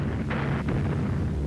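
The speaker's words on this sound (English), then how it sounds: "The rumble of gunfire provided the accompaniment to the Führer's 56th birthday" Distant artillery gunfire rumbling as a steady, muffled low roar with a couple of faint thuds, within range of Soviet guns near the Reichstag in 1945.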